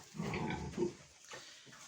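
Low, rough grunts from a sow in a short burst, close by, fading into quieter snuffling.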